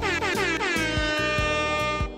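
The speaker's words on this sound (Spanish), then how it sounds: "jugar un guacamole totalmente opcional donde te regalan una bocina si ganas" A horn won as a prize in a video game guacamole minigame blasts a loud, repeated air-horn honk in quick bursts, heard alone.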